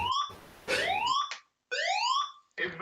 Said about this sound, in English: I've got a fire alarm about to go off